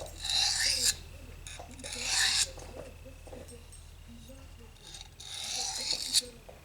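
Light strokes of a blade refining a burr on an Eze-Lap diamond sharpening stone give three separate bursts of dry, hissing rasping, close and moderately loud, with quiet gaps and faint talking in between.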